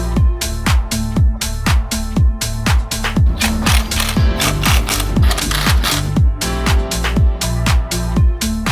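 A hand ratchet tightens the bolts on a Land Rover Defender's side steps. Its rapid, loud clicking comes in repeated bursts with a steady mechanical rhythm, close up and with no talk over it.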